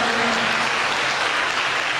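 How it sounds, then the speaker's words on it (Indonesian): An audience claps steadily at a 2016 event, a dense close burst of applause lasting about two seconds with no voices over it. "Tepuk tangan buat kalian sekalian."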